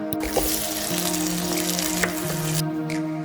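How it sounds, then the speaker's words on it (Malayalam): Chopped tomatoes added to sautéed onions sizzling and frying on a high flame, a dense continuous crackle up close with occasional stirring scrapes and clinks. "അതിലേക്ക് നമുക്ക് എടുത്ത് വെച്ചിരിക്കുന്ന തക്കാളിയും കൂടി ചേർത്ത് കൊടുക്കാം"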